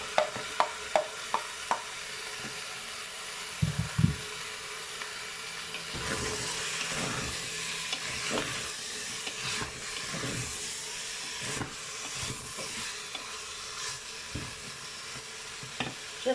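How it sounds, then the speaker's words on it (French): Onions frying in a Cookeo pot, a soft continuous sizzle broken by intermittent stirring scrapes and clacks, close and fairly quiet. "J'y mets les oignons."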